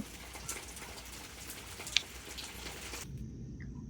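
Rain falls softly and steadily in a garden setting, a faint continuous patter with one sharp drip near the middle before the sound drops away abruptly toward the end.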